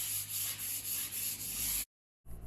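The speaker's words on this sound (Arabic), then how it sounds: "ببدأ أصنفر الباب بجميع تفاصيله" Steady rubbing strokes of 220-grit sandpaper sanding a wooden door after the filler has set, loud and close, continuous for almost two seconds before a short silence and a resumed stroke.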